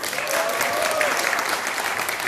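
Sustained applause from an audience at a Korean-language speaking contest, steady and fairly loud clapping filling the whole moment with no voices over it.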